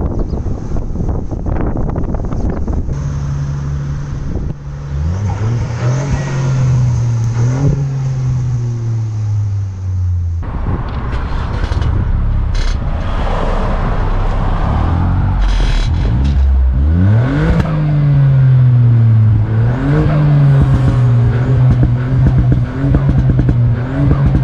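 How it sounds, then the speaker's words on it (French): A Ford Fiesta accelerating hard on a performance test drive, heard from inside the cabin: the engine revs climb and drop through the gears, loud and continuous under steady wind noise, with no talking. "on se retrouve directement à l'intérieur du véhicule pour aller tester les performances avec notre ami ici présent"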